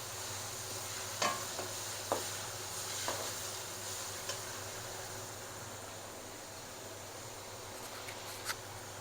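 Whole spices, chillies and aromatics fry in a pot for beef yakhni pulao, giving a steady low sizzle with occasional stirring scrapes and light taps throughout. No one speaks.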